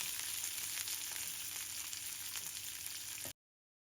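Onion and capsicum sauté in hot oil with garlic, giving a loud, continuous sizzle and crackle for several seconds that stops abruptly.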